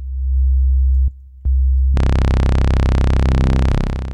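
A synth tone in Arturia Pigments starts as a pure low sine drone, is briefly interrupted, then turns bright and buzzy as phase distortion reshapes the waveform, with a slight sweeping shift near the end.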